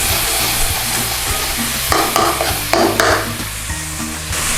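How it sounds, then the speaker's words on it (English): Garlic sizzles loudly in a hot pan for a chicken saag curry, with steady frying hiss and several bursts of stirring scrapes and clatter throughout, no talk. "Get our garlic in there, give it a little whiz round"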